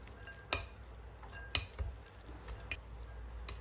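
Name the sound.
stirring noodles with chopsticks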